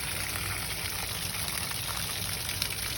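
Water draining from the tank of a 2020 Funfinder 28QD travel trailer, a steady, even gushing and trickling rush that holds constant throughout without pauses.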